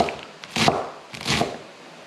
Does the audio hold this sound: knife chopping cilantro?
yes